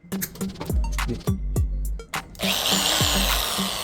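An electric drill rigged with wrapped sandpaper as a homemade sander for patching a bicycle tube whirs in several short revving bursts, then runs continuously with a loud abrasive grinding hiss.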